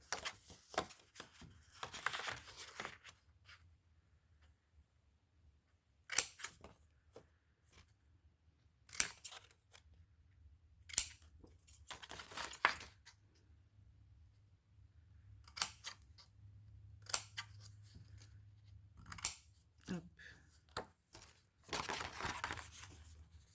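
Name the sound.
scissors cutting the corners of paper for an advent calendar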